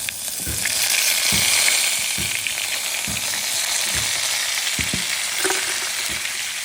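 Mustard seeds, fenugreek, garlic and curry leaves fry in hot oil in a clay pot, a loud, steady, close sizzle with regular soft thumps of stirring running throughout.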